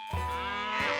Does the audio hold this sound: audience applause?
no